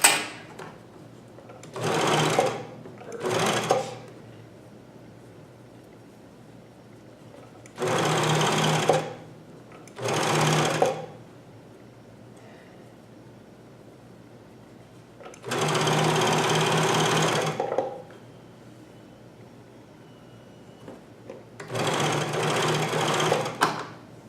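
A Janome CoverPro 1000 coverstitch machine sewing knit fabric runs in six separate bursts of steady, fast mechanical whirring, each one to three seconds long, with quiet pauses between them.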